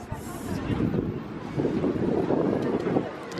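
Wind buffets a microphone outdoors on a chilly, breezy day, giving a steady rumbling roar with gusts that swell partway through.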